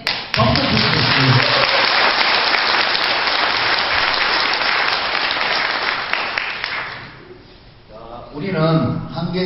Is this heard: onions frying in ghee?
no